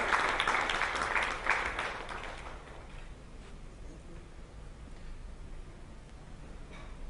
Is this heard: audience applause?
yes